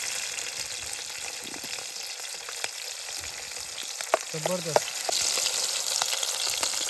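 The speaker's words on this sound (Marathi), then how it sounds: "फोडणी तर एकदम जबरदस्त आहे." Garlic, green chili and capsicum sizzle in a hot oil tempering at an outdoor campsite, a steady, moderate crackling fry with a few brief pops and a short spoken word partway through.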